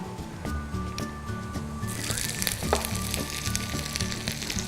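Ginger dropped into hot oil already infusing with star anise and cinnamon, a steady close crackling sizzle that swells louder midway and continues throughout.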